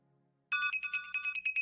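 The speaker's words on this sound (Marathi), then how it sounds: "अगं फोन वाजतोय तुझा" Mobile phone ringtone starts abruptly after a quiet moment, a close, bright electronic melody pulsing in quick repeated bursts and staying loud to the end.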